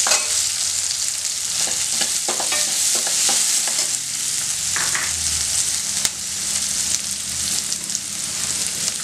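Onions sizzle steadily in hot oil as they are stirred around a pan for mutton cutlets, a loud continuous frying hiss broken by scraping strokes of a spatula, close up and with no talking.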